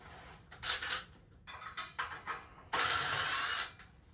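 The front grill comes off a Polaris Sportsman 335 ATV in a series of sharp ratcheting and metallic clicking bursts, close and loud, separated by brief pauses, with no talk.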